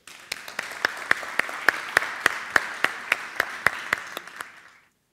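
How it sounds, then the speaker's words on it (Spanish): An audience at a live talk on mysteries bursts into strong applause, with dense steady clapping and sharp individual claps running for about five seconds before cutting off. "este fuerte aplauso para todos vosotros"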